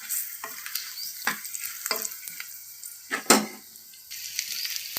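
Rice with chilli powder and biryani masala is stirred in a hot pan, with soft sizzling under a handful of scraping spoon strokes and one louder clatter near the end, close by.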